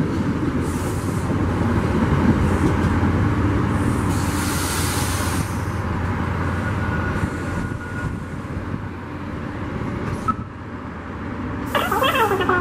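An NJ Transit westbound passenger train rolls into the Mount Arlington, New Jersey station on a steady, loud rumble that holds throughout, with a brief high squeal or horn-like burst near the end.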